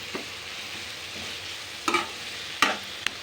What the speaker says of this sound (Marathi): आपल्याला शिजवून नाही घ्यायचं आहे, फक्त थोडंसं असं फ्राय करून घ्यायचं।